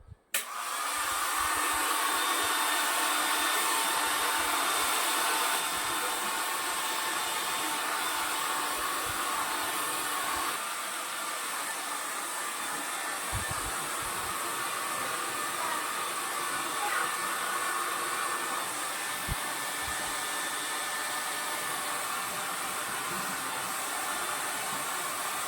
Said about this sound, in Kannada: ಅದಕ್ಕೆ ಸ್ವಲ್ಪ ಏರ್ ಡ್ರೈಯರ್ ಯೂಸ್ ಮಾಡ್ತಾ ಇದ್ದೀನಿ.